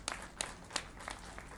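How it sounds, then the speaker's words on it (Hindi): A crowd claps in applause at a public event in Bina welcoming Chief Minister Shivraj Singh, a soft, steady patter of hands heard from some distance. "एक बार सभी लोग ताली बजाकर स्वागत करें।"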